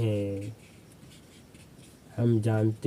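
Marker or chalk scratches softly on a board for about a second and a half during a physics lesson, a faint, steady scribble heard in a pause between spoken sentences.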